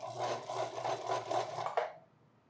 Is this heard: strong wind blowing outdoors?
no